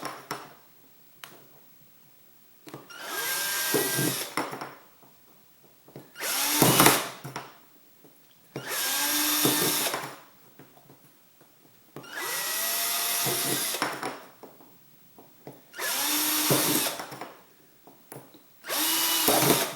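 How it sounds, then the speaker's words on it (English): A power drill whirs in six bursts of a few seconds each, drilling holes in a soda can, spinning up and stopping, with short quiet gaps and faint clicks between. "I'm going to go around and drill 8 more right in between each of those."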